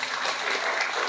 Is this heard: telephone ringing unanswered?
no